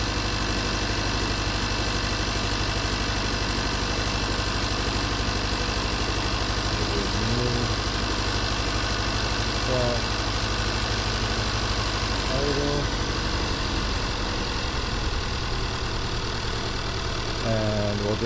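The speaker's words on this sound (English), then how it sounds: "go ahead and start it. Save an idle real quick." 2016 Kia Soul with a 2.0 L engine and a no-power fault idling steadily, a continuous close mechanical drone with constant level, with faint brief tones rising now and then underneath.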